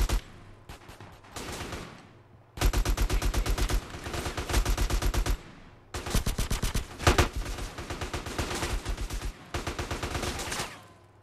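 An M4 rifle in GTA San Andreas rattles off loud, rapid automatic bursts in several long strings, with short pauses between them.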